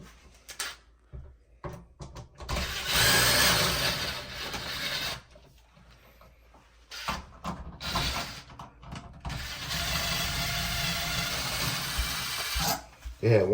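Screw gun backing screws out of an electrical outlet, with several whirring bursts separated by pauses and quieter handling noise between them.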